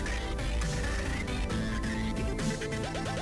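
Looping music from the video game Rage Pig plays continuously and loudly, a dense electronic soundtrack with no voices over it.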